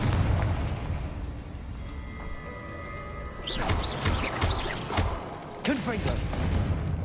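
Confringo spell blasts in Hogwarts Legacy burst out in quick succession, several sharp booming explosions with crackling tails following a tonal magical hum, loud and close.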